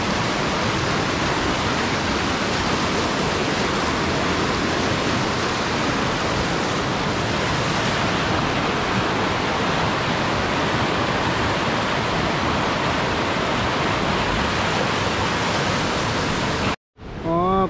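The Naula mountain stream rushes under bridges in a loud, steady, broadband roar that continues unbroken for most of the stretch, then cuts off abruptly near the end.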